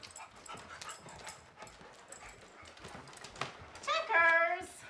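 Small dog whimpering in a comedy horror film, faint whines through the clip that rise into a louder drawn-out whimper near the end, with quiet speech under it.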